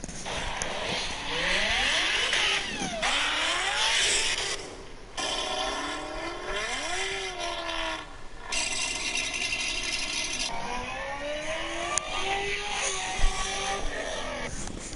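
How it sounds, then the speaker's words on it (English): Chevrolet Corvette C7 ZR1 and C6 ZR1 V8 engines rev repeatedly, rising and falling loudly in sweeping pitch glides, one burst after another with brief gaps between them. "Representing American V8s, we have the Chevrolet Corvette C7ZR1. And then we might as well go with its brother, the C6ZR1."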